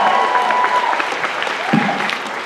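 A short burst of steady applause from a convention panel crowd at VegasCon 2019, clapping continuously throughout.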